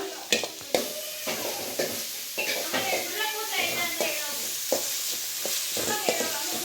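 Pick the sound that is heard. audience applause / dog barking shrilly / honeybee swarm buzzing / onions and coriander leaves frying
onions and coriander leaves frying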